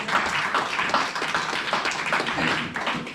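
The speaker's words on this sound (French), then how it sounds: "On acclame pour le roi de gloire" A church congregation claps in acclaim of the King of Glory, a dense run of rhythmic hand claps at a steady beat, fairly close and loud, with no talk.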